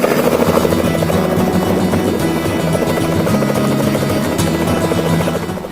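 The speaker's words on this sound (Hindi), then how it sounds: "जोरदार आवाज के साथ हेलीकॉप्टर का पंखा घूमने लगा" A helicopter stands before a crowd of villagers as a groom boards it for his wedding, and its rotor spins with a loud, steady, close chopping roar that lasts throughout, with no talk.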